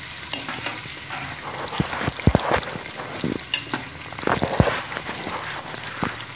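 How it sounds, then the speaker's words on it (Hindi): Three chopped onions frying in hot oil in a pot while making Charsada-style khichdi with rice and meat, a steady close sizzle broken by louder crackles and stirring scrapes. "मैं ऑयल डाल लिया है और इसमें हमने तीन नॉर्मल साइज़ के प्याज चॉप कर लिए हैं, वो डाल दिए हैं"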